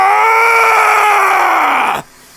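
Anime character Goku screaming while powering up, one long, loud, sustained strained yell that holds steady for about two seconds and then cuts off abruptly.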